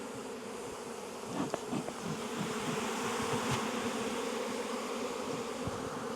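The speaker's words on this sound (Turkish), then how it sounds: "İtalyan arısı kovana girer bizdekiler dışarı çıkıyor." Honey bees swarm around an open hive during a honey harvest, a dense, steady buzzing close by with a few individual bees droning past, and no talking.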